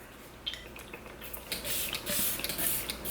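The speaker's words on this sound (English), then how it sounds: "I'm gonna put on some of the Stay Spray Mist by Tarte." Tarte setting spray misted onto a face in a few short hissing bursts, close and fairly soft, with light handling clicks before the sprays.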